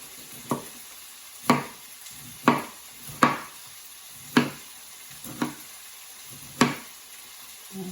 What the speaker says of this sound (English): stir your onions occasionally. You don't want it to burn.